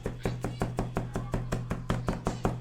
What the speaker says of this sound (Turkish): Bunları ince ince doğruyorum.